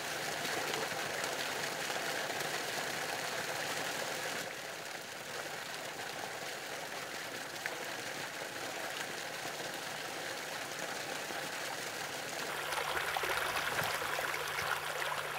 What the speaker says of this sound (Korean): 매일 양수장을 통해 뿜어 나온 물은 작은 도랑을 따라 전답 곳곳으로 흘러가 옥수수와 참두콩, 호박의 뿌리를 적신다.